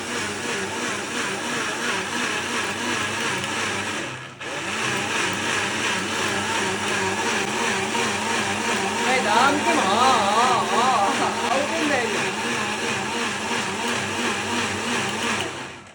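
A mixer grinder that has been acting faulty blends juice, a loud, steady motor whir that cuts out briefly, restarts and keeps running, with a voice talking over it.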